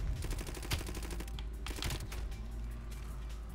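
Rapid automatic gunfire from Call of Duty: Black Ops Cold War, dense bursts of shots fired close and loud, easing to a quieter background of game noise toward the end.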